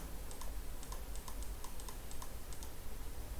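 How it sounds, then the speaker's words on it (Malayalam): Quick, light keystrokes rattle on a computer keyboard in rapid, irregular bursts, soft and close in an otherwise quiet room. "ഇനി ഇവിടെ നോ സ്മോക്കിംഗ് എന്ന് ടൈപ്പ് ചെയ്യുന്നു."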